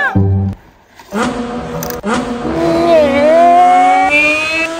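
A car engine catches and revs upward in rising, wavering pulls, fairly close and loud, with a brief gap before it picks up again and holds a strained higher pitch.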